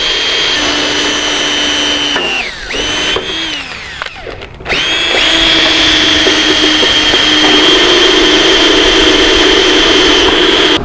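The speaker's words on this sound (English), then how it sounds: "Then we're going to take a small pilot drill" A power drill drills a small pilot hole during installation of an AGCO Dynaflex AWS Airbar belt drive fan assembly, running loudly and close, a sustained high whine that briefly slows and stops before revving up again and holding steady.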